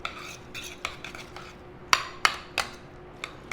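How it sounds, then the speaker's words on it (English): Six crackers are crumbled and mixed into squash for squash patties, giving a scattered series of sharp scraping and clinking taps from a utensil against a bowl, close and fairly quiet, with no voices. "So that was 6 crackers I'm going to crumble and mix in"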